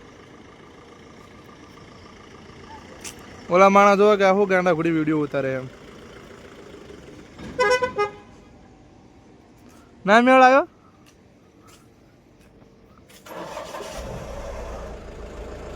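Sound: car being driven out and started

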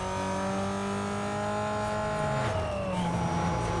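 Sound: Toyota Supra engine revving in Need for Speed Most Wanted video game

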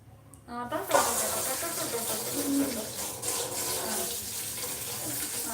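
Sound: running tap water washing guavas

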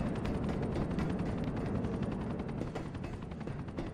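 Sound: helicopter arriving in GTA 4 video game

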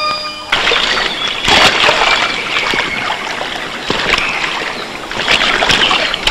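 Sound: river water sound

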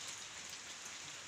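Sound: rain falling

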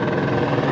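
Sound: helicopter arriving and landing

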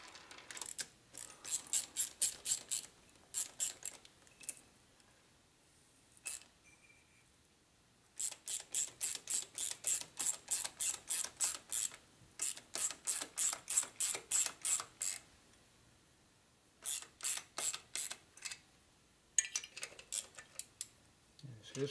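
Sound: ratchet socket wrench turning on Harley shovelhead engine

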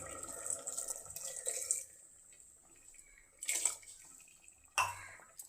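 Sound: pouring coconut milk into potato curry

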